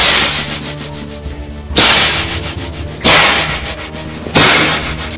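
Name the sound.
whip crack sound effect in audio drama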